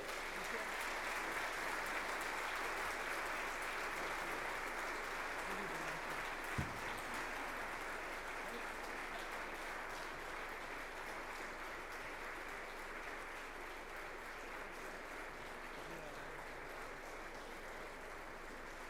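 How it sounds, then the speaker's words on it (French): Sustained audience applause and cheering at an official opening ceremony of a Central African regional summit, a dense steady clapping wash lasting the whole stretch, with a faint voice beneath. "que je vous prie de bien vouloir acclamer très fort"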